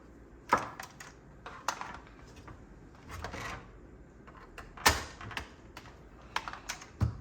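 Keys clack on a computer keyboard in an irregular run of taps and louder strokes, close but fairly faint, alone without speech.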